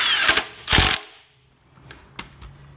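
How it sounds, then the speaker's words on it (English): A rattle gun (impact wrench) tightens a new crank bolt on a Mazda MX5 NC with a 2.5 engine conversion, giving two short, loud bursts close by before the workshop goes quiet. "All I'm going to do now is just zap it up with a rattle gun"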